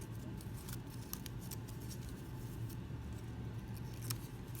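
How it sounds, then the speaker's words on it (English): Scissors cutting folded paper to make a paper snowflake: soft, close snipping and crisp paper rustle in a quiet room, with a few brighter cuts standing out against a faint steady hiss. "If I want to, I can cut maybe on an angle."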